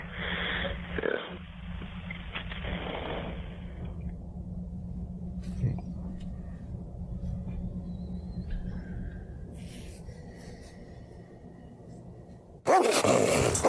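A dog in a horror film sniffs and growls low and menacingly for several seconds over a steady dark drone, ending in a sudden loud burst of noise.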